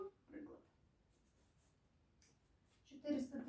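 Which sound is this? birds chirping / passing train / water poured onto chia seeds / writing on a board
writing on a board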